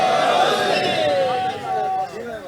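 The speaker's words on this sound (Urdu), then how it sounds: "ایک نعرہ سنا سکتے ہو سارے رل کے؟" A gathered crowd chants a religious slogan together, their voices rising in a sustained unison shout that trails off into a few scattered voices.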